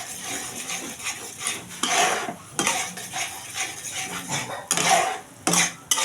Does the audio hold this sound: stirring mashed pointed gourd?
yes